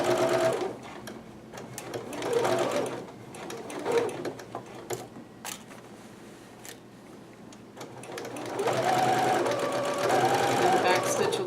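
A sewing machine stitches kimono fabric in whirring runs that start and stop, briefly backstitching, close and fairly loud, with a pause of quieter handling in the middle.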